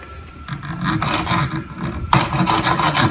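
A junior hacksaw cuts into a surface-mounted plastic electrical box, giving a steady series of close, rasping back-and-forth strokes that grow louder partway through, with no talking.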